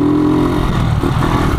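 A 2009 Honda TMX 155 manual motorcycle engine running up close, a loud steady low droning hum with slight rises in pitch, no talking.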